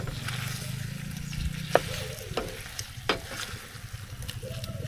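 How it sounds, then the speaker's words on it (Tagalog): Pork frying in a pan over a butane burner gives a soft, steady sizzle. A few sharp clinks and scrapes of stirring break in, along with a bit of background noise. "Pero, iprito muna natin ng konti."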